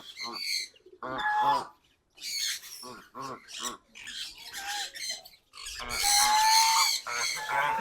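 Geese kept in a small enclosed yard honk and squawk repeatedly at close range, in loud, irregular bursts with short gaps that build into an overlapping chorus near the end.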